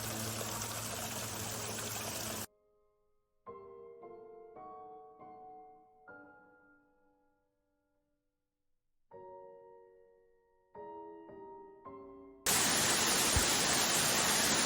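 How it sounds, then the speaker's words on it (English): Water trickles down rocks along a New Zealand hiking trail, a broad hissing rush that is heard at the start and again at the end, with soft melodic tones filling the quiet stretch in between. "The sound of water trickling down rocks."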